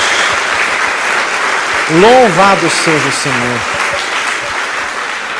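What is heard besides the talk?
applause in church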